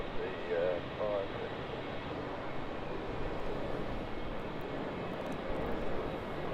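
An Air New Zealand Boeing 777 jet at Melbourne Airport, a continuous distant engine roar that holds steady, with a brief voice early on.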